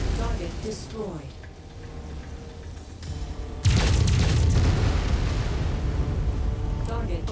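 In the MechWarrior 5: Mercenaries video game, a destroyed target explodes in a sudden loud boom that rolls on as a sustained roar, with a voice talking before it.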